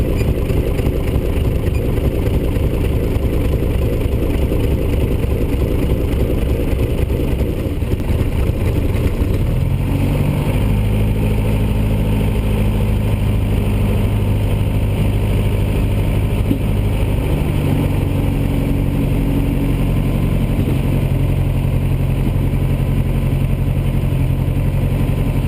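A light aircraft engine runs at a steady drone during run-up, its pitch and loudness shifting partway through as power changes, loud and continuous with no talk.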